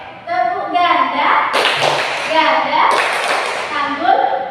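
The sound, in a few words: group clapping game, single and double claps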